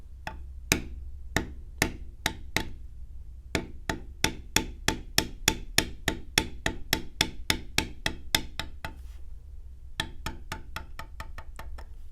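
Rapid, evenly spaced mallet taps on a leather beveling tool working along a tooled line, crisp close knocks in a steady rhythm with one short pause, no talk.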